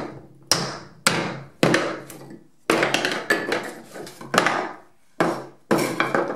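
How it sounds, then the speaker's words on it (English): Big hammer striking a mould to knock cast test pieces loose for a CNC upgrade, nine or so sharp, loud metallic-wooden bangs at irregular intervals, each ringing briefly before the next blow. "and hit it with a big hammer."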